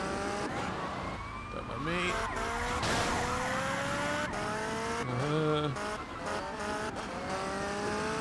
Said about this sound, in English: The police car has just come out of nowhere.